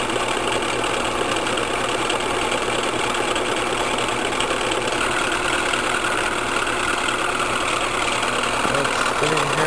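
A three-phase AC induction motor spins steadily, giving off a continuous, fairly loud mechanical hum with no pauses.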